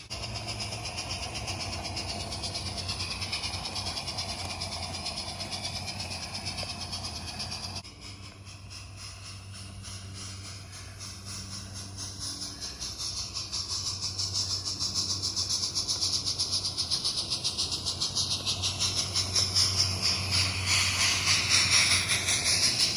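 A small model live steam army train chugs and hisses along steadily, its rhythmic mechanical clatter growing slightly louder toward the end, with no voices.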